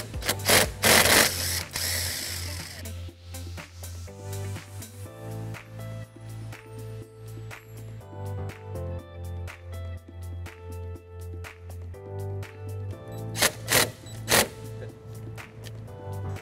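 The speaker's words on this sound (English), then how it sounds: "On the battery, I'm going to be removing this nut using a 12 millimeter socket." A 12 mm socket ratchet loosens the battery terminal nut on a 2004 Toyota Highlander, with close, quick runs of ticking clicks over a low steady hum, plus a few louder clunks and handling sounds.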